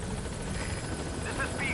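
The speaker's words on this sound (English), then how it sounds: "Let's go ahead and call the chopper." A helicopter arrives in the video game Metal Gear Solid V, a steady loud rotor drone filling the whole stretch with a slight rise in intensity near the end.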